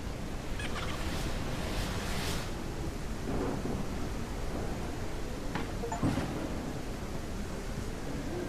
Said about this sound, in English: Oh, they made it rain.